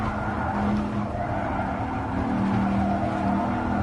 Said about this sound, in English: it actually sounds like a Viper